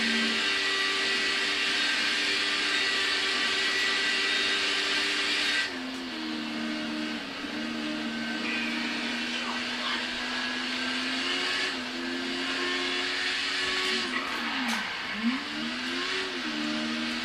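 A Yamaha sport motorcycle at high speed on the road, its engine droning steadily with pitch shifts as it weaves between cars, heavy wind roar throughout, loud and close with no talk.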